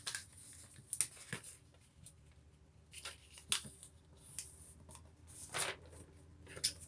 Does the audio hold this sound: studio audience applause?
no